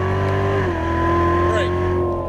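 Chevrolet Corvette C7 Z06 accelerating on a race track, its engine note climbing steadily and loud, then dipping briefly at a shift before pulling again, with an instructor's voice over it.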